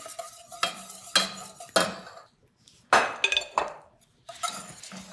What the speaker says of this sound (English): Now add this to your pot and whisk this in.